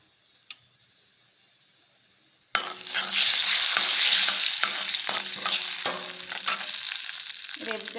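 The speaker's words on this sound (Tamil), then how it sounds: "கடுகு வெடித்தோடனே உளுத்தம் பருப்பு கொஞ்சமாக சேர்த்துக்கிறேன்" Mustard seeds and urad dal sizzling in hot oil for a tempering, bursting into a loud close hiss after a quiet start, with spoon stirring and faint crackles throughout.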